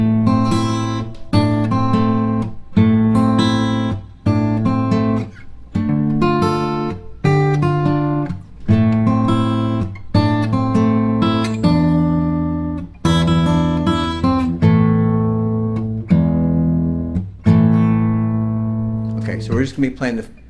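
Fingerstyle acoustic guitar playing the Spiderman theme, plucked melody over bass notes in steady, even phrases, close and clear with no talking.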